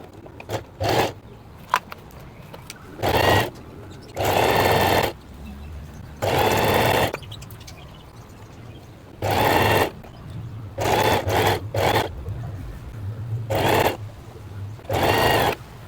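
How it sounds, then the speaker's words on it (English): A sewing machine stitches close to the edge of an open-back dress in short and longer whirring bursts separated by quiet pauses, loud and close. "Then we sew here close to the edge."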